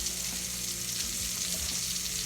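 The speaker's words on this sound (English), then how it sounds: "So now let me flip my burgers." Burgers sizzle and fry steadily on a hot grill right after being flipped, a close, continuous crackling hiss with no talk.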